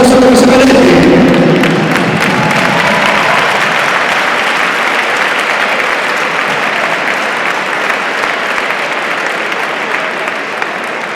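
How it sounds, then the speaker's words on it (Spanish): Audience applauding at a boxing tribute evening in A Coruña, loud sustained clapping with some crowd noise that starts strong and slowly eases off over about eleven seconds, with no talk over it. "un fuerte aplauso que se merece."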